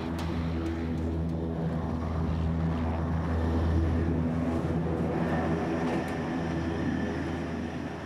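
Puma military helicopter on the tarmac at Gao, a continuous loud, close turbine and rotor roar with a steady low drone throughout, no speech.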